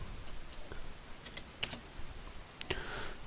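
Someone types on a computer keyboard, giving quiet, soft key clicks spread out across a few seconds over a low background hiss.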